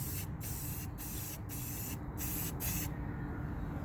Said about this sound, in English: So if we just take a spray can and we take and put